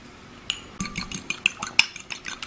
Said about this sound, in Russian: И хорошо так взбиваю